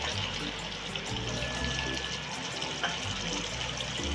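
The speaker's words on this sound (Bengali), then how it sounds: "দেখুন আমার গ্রেভিটা ফুটে উঠেছে" Gravy for a Bengali parshe fish curry bubbles at a boil in a pan, a soft continuous liquid burble under gentle background music.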